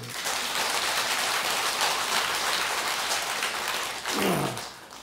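Audience applause during a Buddhist temple Dharma talk at a New Year prayer service, dense and steady for about four seconds before tapering off near the end, with no voices over it.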